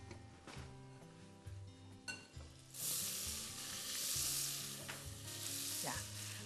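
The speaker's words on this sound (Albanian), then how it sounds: "me lëvizje klike të nxjerrës, pa vendosur fare lugën, arrim që të ngrohim gjalpin" Butter heating in a pan, a faint sizzle that swells into a brighter, steady hiss partway through, with a few light clinks of the pan and no talking.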